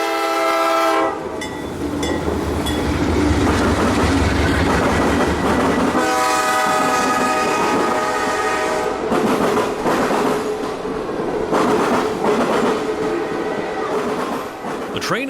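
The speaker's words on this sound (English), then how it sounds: "the Ringling Brothers and Barnum and Bailey circus train arrived at Plant City with two" Ringling Brothers and Barnum and Bailey circus train, led by two C40-8W locomotives, rumbles past at Plant City with a loud horn blast, heavy engine drone and rhythmic clickety-clack of cars, close and continuous.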